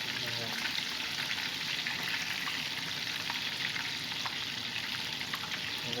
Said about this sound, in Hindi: फिश जो हमारा फ्राई हो रहा है